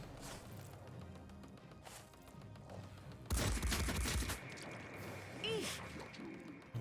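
A short, rapid burst of machine gun fire in the strategy game Phoenix Point rattles out amid game effects and other sounds, with a voice talking in the scene.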